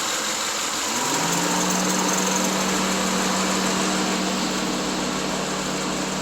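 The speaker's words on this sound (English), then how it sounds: "High-speed fans just kicked on." Radiator cooling fans on a 2009 Subaru Legacy switching to high speed while the engine runs hot, a steady loud whirring drone that swells in about a second after a brief quieter moment and holds constant, close by.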